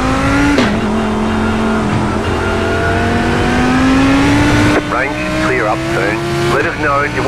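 GT3 race car lapping the Nordschleife in heavy rain in the iRacing sim, its engine droning loud and steady with rising pitch and gear shifts, while a spotter's voice talks over it.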